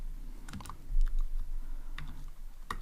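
Computer keyboard keys clatter in quick, uneven bursts while code for an Android menu is typed, with close, crisp clicks and no talk.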